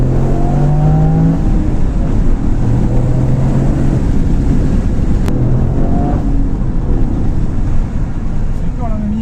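A Toyota Yaris GR small hot hatchback accelerates hard, its engine note rising in pitch through revs amid wind and road noise, heard from inside the car with occasional voices.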